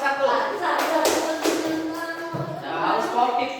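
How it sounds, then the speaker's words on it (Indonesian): Classroom applause from seventh-grade students for a winning group, uneven bursts of clapping that swell and fade, with a teacher's voice talking over them. "Kasih tepuk tangan dulu kelompok 1"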